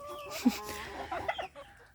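A few short clucks from Chinese Silkie chickens, a rooster and hens, close by, with a brief louder squawk among soft scratchy farmyard noise.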